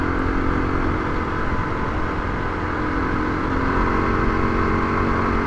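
A Kawasaki KLR 250 motorcycle runs at wide-open throttle in sixth gear, around 50–55 mph and 6,000 RPM, giving a loud, steady engine drone mixed with wind rumble throughout, with no talking.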